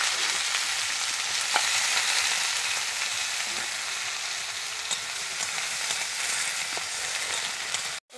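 Eggplant and potato frying in hot oil with five-spice and dried chili, a steady loud sizzle throughout with a few small pops and crackles, no voices.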